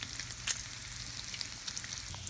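Bacon frying on a Blackstone griddle, with a steady, soft sizzle and occasional tiny pops and crackles. Close and quiet, with no talking.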